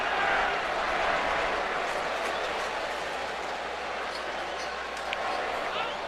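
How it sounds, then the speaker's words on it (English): A steady, loud roar from a packed Yankee Stadium baseball crowd during a 2007 playoff game against the Indians, a dense wash of cheering and murmur that holds evenly throughout. "But listen to the Yankee crowd."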